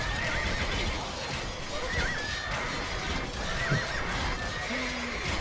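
Horses neigh and whinny repeatedly from cavalry archers in an Age of Empires-style strategy game, with hoof clip-clop and battle bustle running steadily throughout, the whinnies rising at several points over the dense background.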